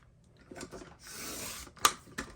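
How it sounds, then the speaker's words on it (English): A paper trimmer blade slides across a straight strip of paper in a short, soft rasping swipe that ends in a crisp click, close and fairly quiet, with a few light handling taps around it. "I'm just cutting that as a straight piece"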